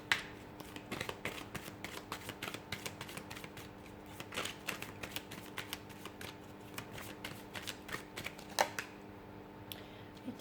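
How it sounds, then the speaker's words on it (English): Tarot cards are shuffled close by in a steady run of crisp riffling clicks and flicks that lasts throughout, with no talking. "So I'll give the cards a shuffle"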